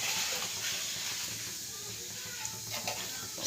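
Shahi cumin seeds sizzle in hot oil, a steady broad hiss holding evenly throughout with faint crackles near the end and no voices.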